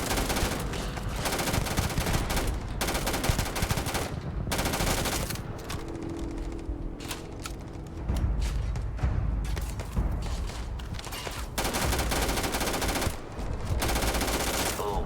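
Sustained automatic gunfire from a weapon in the sci-fi game Starfield, loud, close bursts with short pauses that keep up through most of the stretch.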